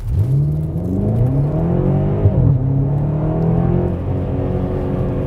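A BMW X5 M accelerates hard in sport mode, the engine note climbing strongly through the gears with brief dips at shifts, loud and close from inside the cabin, no talking.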